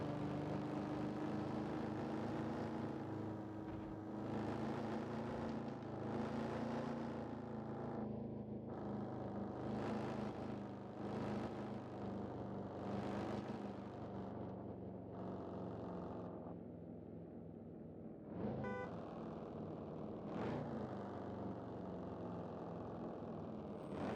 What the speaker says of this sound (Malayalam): ഇതിൻ്റെ എക്സോസ്റ്റ് സൗണ്ടൊക്കെ ഇച്ചിരി റിയലിസ്റ്റിക്കാണ്.